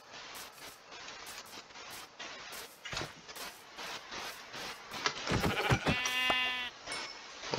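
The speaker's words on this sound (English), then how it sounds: "What are you? Sheep?" Sheep in the Minecraft video game bleat in a few short, clear cries toward the end, over light game background noise, with no talking during the calls.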